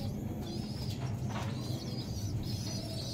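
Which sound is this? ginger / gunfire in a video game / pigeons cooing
pigeons cooing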